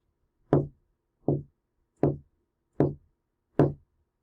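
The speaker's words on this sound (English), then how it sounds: "he kept hearing a strange knocking sound" Five hollow knocks fall at an even, unhurried pace, each crisp and separate with clean silence between them, close and moderately loud. The scene is a jungle at night.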